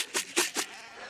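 Sheep bleat three times in quick succession, close and fairly loud, during a winter move of a flock of ewes and rams, with no talking.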